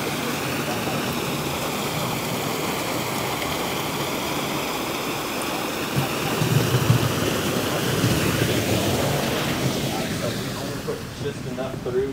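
Continuous rushing water from the stream feeding a water-powered sorghum mill, a steady broadband wash that swells slightly midway, with someone talking faintly beneath it.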